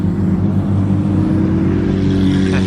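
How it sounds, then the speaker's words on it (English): A Ferrari F40 supercar rolls up close by, its engine a steady, loud rumble with a rising tone near the end; background crowd and traffic noise sits underneath. "Ferrari F40 pulling up"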